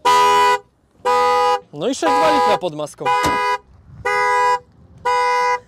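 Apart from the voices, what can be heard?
car alarm honking horn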